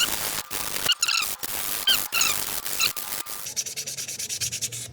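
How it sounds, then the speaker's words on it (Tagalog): Sandpaper rubbing back and forth over a surface in steady scratchy strokes, close up, speeding into quicker short passes toward the end. "Ito, kailangan kong lihain to."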